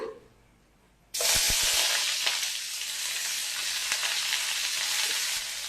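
Curry leaves, capsicum and onion drop into hot oil with a sudden loud sizzle that settles into a steady, close hiss of frying, broken by a few light knocks of stirring at the start, with no one talking.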